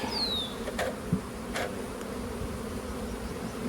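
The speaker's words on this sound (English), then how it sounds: "More of the bees retreat that way" Honeybees in a hive opened for inspection, a package colony compared with a nuc two weeks after install, with smoke in use: a steady, close swarm hum throughout, with a brief faint squeak near the start.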